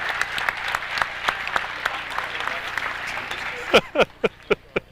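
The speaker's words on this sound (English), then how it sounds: "How about a round of applause for Steve and Jimmy Shortle." A crowd at a sports tournament game claps steadily, then the applause thins out into a few loud, separate claps near the end; speech stays faint beneath it.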